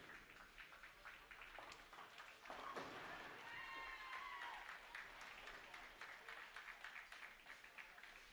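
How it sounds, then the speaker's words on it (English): Far-off cheering and clapping from a crowd in the U15 girls division at a youth bowling tournament, a soft wash of applause rising and falling across the lanes, with faint voices nearby. "Cheering going on down in the U15 girls division."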